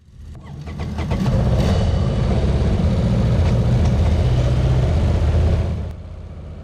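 Honda Transalp motorcycle engines start up and settle into a steady, loud rumbling idle with some revving, the sound cutting off near the end.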